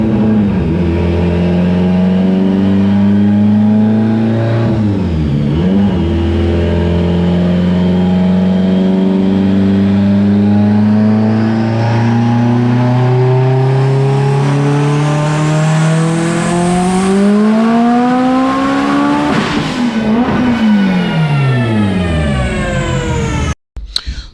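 Mitsubishi Evo X with a Darton-sleeved engine and big turbo, running on a dyno, roaring loud and close as it climbs steadily through the revs in a long pull, dipping briefly around the midpoint before rising again to a high whine and cutting off.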